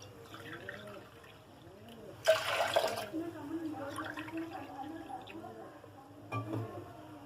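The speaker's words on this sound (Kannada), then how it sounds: "ಇದಕ್ಕೇನದ ನೀರು ಹಾಕೋಣ ಒಂದು ಆಟಗ ಅಕ್ಕಿಗೆ ನಾನು ಇಲ್ಲೇ ಮೂರು ಆಟಗ ನೀರು ಹಾಕೊಳಕತ್ತೀನಿ" Water is poured into a pressure cooker holding rice, about three measures to one, for bisi bele bath. It sounds as one short splashing burst partway through, under someone talking softly in a quiet kitchen.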